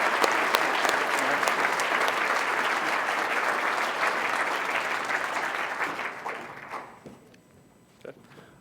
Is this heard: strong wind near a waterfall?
no